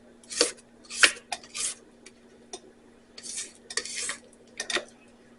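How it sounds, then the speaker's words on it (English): A spatula scraping down the sides of a mixing bowl of cheesecake batter, several short scratchy strokes against the bowl with brief pauses between, close and fairly quiet, with no speech. "I want to scrape down the sides"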